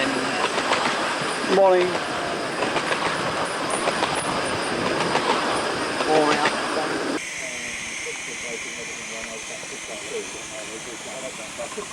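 7¼-inch gauge miniature railway train passing at the Pecorama Gauge Society meeting, with close rhythmic rolling and clicking of wheels that drops off abruptly partway, a brief shout and other people talking nearby.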